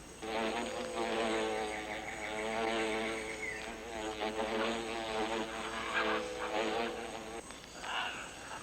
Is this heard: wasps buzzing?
yes